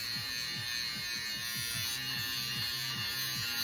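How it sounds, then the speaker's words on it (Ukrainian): A small handheld electric shaving device runs close by with a steady high-pitched buzz and a fast pulsing rattle as it trims hairs on an arm, continuous throughout. "Можна нею бритися замість бритви. Вона вибриває волоски."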